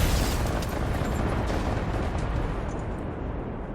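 Explosive trap detonating in the video game Generation Zero, a loud sustained blast with a rumbling roar that stays heavy for several seconds and fades only slightly, with no voices.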